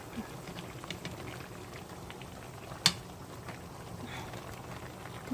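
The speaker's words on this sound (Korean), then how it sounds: "보글보글 지금 끓고 있어요." A stew of pollock roe and tofu bubbles quietly as it boils, a soft continuous simmer of small pops, with one sharp click partway through.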